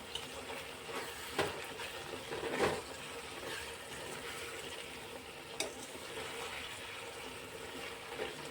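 Spices frying in oil for a vegetable pulao are stirred in the pan, a soft continuous sizzle broken by a few louder scrapes of the spoon, close by with no talking.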